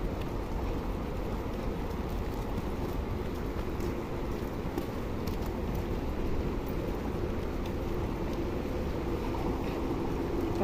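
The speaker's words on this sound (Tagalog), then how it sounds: "Maulan pa rin po." Steady rain pours down outdoors on a wet evening walk home, a dense, even hiss that stays constant from start to finish with no voices over it.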